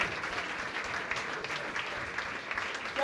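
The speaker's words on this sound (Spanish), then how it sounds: "Den un aplauso al Señor." A church congregation applauds, with a dense, steady wash of many hands clapping together at even loudness, sustained and somewhat distant.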